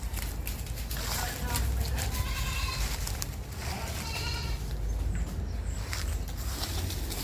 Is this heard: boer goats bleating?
yes